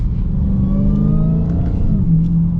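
A Dodge Challenger Hellcat accelerates hard, its engine note rising steadily with a supercharger whine layered over it, loud and close for the whole stretch.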